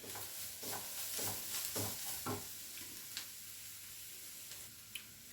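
Cabbage with chili, garam masala, coriander and pepper powders stirred in a pan, several rhythmic scraping strokes over a soft sizzle, then quieter frying with a couple of light ticks.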